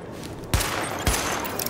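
Two sharp gunshots, about half a second apart, ring out during a weapon test in the video game The Division, standing out against a steady background hum.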